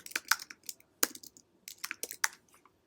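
Quick, light keystrokes clatter on a computer keyboard in short irregular bursts with brief pauses, crisp and close, no voices.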